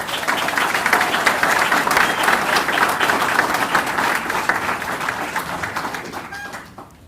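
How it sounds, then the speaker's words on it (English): Sustained applause from a graduation ceremony audience welcoming graduates, a dense steady clatter of many hands clapping that holds for about six seconds before thinning and fading at the end. "Please give everyone a round of applause."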